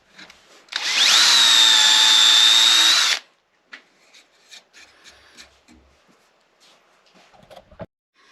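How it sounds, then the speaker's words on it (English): Power drill reaming out tuner holes in a wooden mandola headstock, one steady, loud whining run of about two seconds, followed by faint handling clicks and taps. "now that the tuners are all drilled out"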